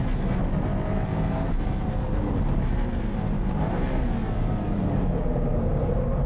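Nissan Skyline GT-R R34 on a track, its engine droning steadily at speed under power, a continuous dense mechanical roar heard from inside.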